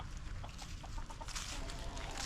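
Chickens in a backyard coop and run give soft, scattered clucks over a steady outdoor background hiss, fairly faint and irregular throughout.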